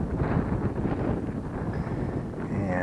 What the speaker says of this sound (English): Luckily I have the wind at my back.